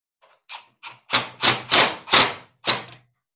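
A screw is driven into a closet sliding-door rail in a series of about six short, sharp, close bursts that grow louder, with a faint motor tone under the later ones.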